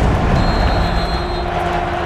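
Stadium crowd roaring at Arrowhead after a made field goal in an NFL game, a dense, steady wall of cheering noise filling the whole clip with no pauses.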